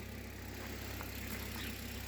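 A 1.8-litre engine in an old, roughly twenty-year-old Opel Zafira with 290,000 km runs at a steady idle, a quiet, even hum with a low rumble and no voices.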